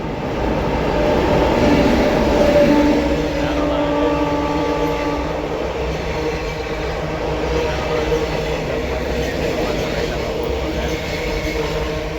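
A train rumbles steadily and loudly across a bridge in a valley for the whole stretch, a continuous heavy roar with faint metallic tones.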